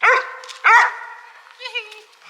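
A search and rescue dog in play training gives three sharp, close barks or yelps, the first two loud and the last softer and drawn out.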